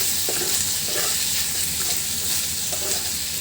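Whole garlic cloves fry gently in hot oil for a traditional Bangladeshi vorta meal, giving a steady, close sizzle with occasional stirring.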